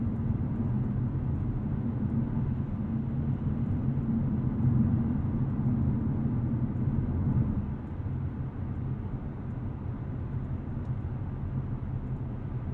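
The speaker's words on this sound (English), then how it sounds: "There is a decent amount of wind, tire, and road noise, but within the realm of reason for this price point." Steady low cabin drone of wind, tire and road noise inside a 2023 Hyundai Elantra N DCT cruising in normal mode, a constant rumble that eases slightly partway through, with no talking.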